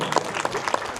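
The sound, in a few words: applause for the daughter's best of luck wishes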